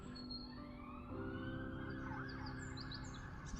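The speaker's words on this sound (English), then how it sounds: "it was silent here until there were sirens" City emergency vehicle sirens wail faintly in the distance on an 8 AM morning, their rising and falling tones drifting over a steady low urban rumble.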